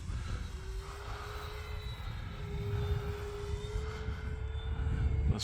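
An FMS P-47 RC model plane makes a fast pass at about three-quarter throttle, its steady engine whine droning at a distance and slowly swelling louder across the pass, heard alone outdoors.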